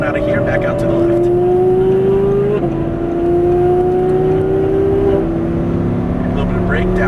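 Audi R8 with a V10 engine accelerating on a race track, its engine note climbing in steady rising sweeps and dipping briefly at a gear change, loud and continuous while an instructor talks over it.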